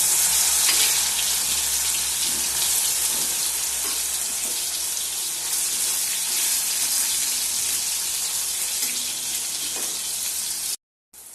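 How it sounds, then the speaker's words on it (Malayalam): Small balls of batter deep-frying in hot oil on a medium flame, a dense continuous sizzle and bubbling close up, steady and loud with faint clinks, alone without talk until a brief cut near the end. "ഇനി നമുക്ക് കുറേശ്ശെ ബോൾസ് ഇട്ട് വറുത്ത് കോരിയെടുക്കാം"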